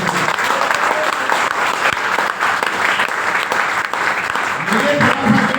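A seminar audience in Rishikesh, Uttarakhand, breaks into loud, continuous clapping that fills the room, with a voice faintly heard near the end.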